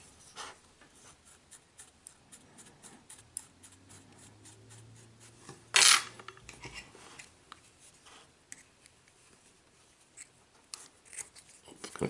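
Scissors snip away excess cotton wick on a 22mm rebuildable tank atomizer, with one sharp close snip amid quiet rubbing and handling noises.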